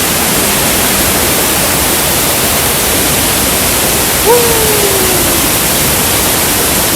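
A waterfall roars in a constant, loud, hissing rush of water, close by and unbroken throughout.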